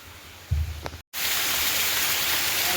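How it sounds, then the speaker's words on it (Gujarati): A heavy downpour pours down outside in Porbandar as a dense, steady rush of rain. It follows a brief thump and a moment of dead silence, then holds loud and unbroken. "બહાર વરસાદ ફૂંકા કાઢે એવો વરસાદ પડે ચાલુ જ છે."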